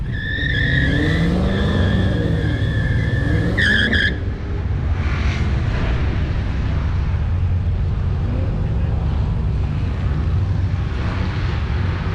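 A Tesla Model S drag racing a 392 car at 72% battery: a high whining tone with rising and falling pitch sweeps over a rumbling rush of road and wind noise, ending in a steady roar.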